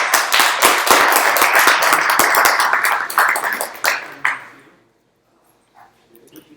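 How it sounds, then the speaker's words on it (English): A small audience at a programming meetup claps for about four seconds, a dense burst of close handclaps that thins out into silence. "Round of applause."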